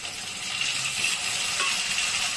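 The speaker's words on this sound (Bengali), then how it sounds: "তাই আমি ঢাকা দিয়ে মাছ ভাজি।" Katla fish frying in oil under a lid in a covered pan, a muffled continuous hiss and sizzle, steady and moderately loud over a couple of seconds with no voices.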